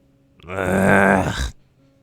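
A voice imitates a grumpy gasp and groan for a tabletop fantasy game: a single sustained, strained groan lasting about a second, loud and close, with no other talk.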